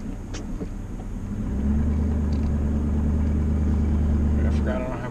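A lowrider car cruising slowly on the road, its engine a steady low rumble that swells louder partway through and holds before easing off slightly at the end.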